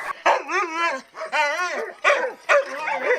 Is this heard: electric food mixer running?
no